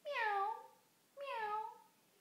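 A voice imitates a cat with two drawn-out, rising-then-falling meows, clear and close, separated by a short pause.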